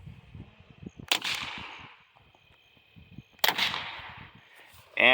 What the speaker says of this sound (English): And in the top right, go with the rifle.